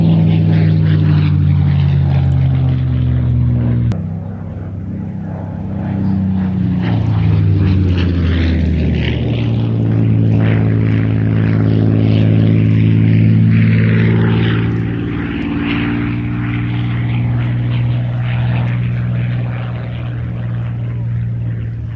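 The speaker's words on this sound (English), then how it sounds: "But right now, we've got more warbirds." A propeller warbird flies past at the Midlands Air Festival, its engine a loud, steady drone with shifting pitch as it approaches and recedes, continuous and unaccompanied by talk.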